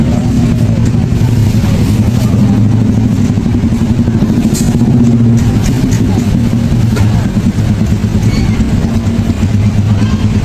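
Congested street traffic beside a busy fried chicken stall in Banda Aceh, a loud constant wash of motorcycle and car engines with clattering and murmured voices in the crowd.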